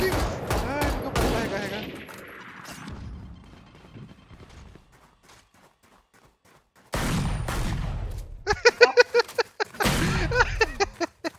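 Bursts of rapid gunfire in the game Valorant, loud volleys separated by a quiet stretch, with crackling shots and impacts in later bursts.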